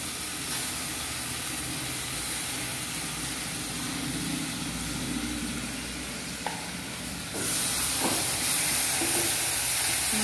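Homemade tomato sauce fries in a hot pan for a soybean and egg curry, producing a steady, close sizzling hiss that grows noticeably louder partway through, with a few faint clicks of a utensil.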